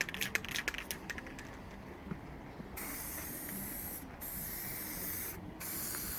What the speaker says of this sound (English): we're just spraying the letters up now